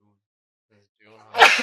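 A single sharp human sneeze, close and loud, bursting out at the end after some quiet, mumbled talk.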